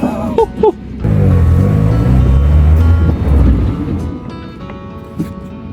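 A project car's engine runs steadily with no ticking, a low droning rumble that swells for a few seconds and then eases back as the car moves, with wind noise around it.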